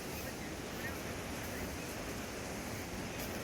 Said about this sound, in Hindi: तो ये डैम में से ये इसके गेट खुल गए हैं, और गेट का पानी का बहाव आप देख ही सकते हैं किस तरीके से है।